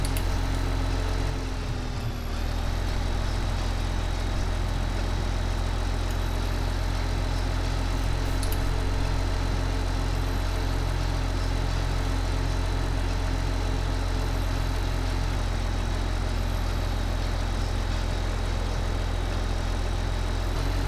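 A simulated tractor engine from Farming Simulator 2015 idles and drones steadily throughout, a low continuous hum with a faint mid-range whine, close and even with no talk over it.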